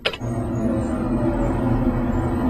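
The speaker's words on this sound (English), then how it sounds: "You can hear a large vehicle going by." A low, steady rumble of a large vehicle rolling past outside, heavy and droning, after a brief sharp click at the start.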